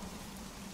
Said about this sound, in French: Oh, il pleut beaucoup trop!